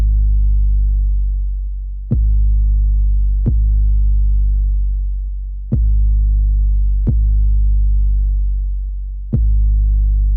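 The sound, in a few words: 808 bass soloed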